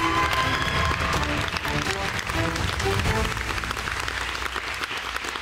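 Studio audience applause at a televised pantomime game show fills the room, a dense, steady burst of clapping with faint voices underneath that tapers slightly toward the end.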